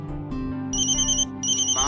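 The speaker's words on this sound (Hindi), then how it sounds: "माँ का वैष्णो देवी से फोन है।" A phone rings with a bright electronic ringtone in two repeating bursts, loud and close, over a steady tonal indoor background.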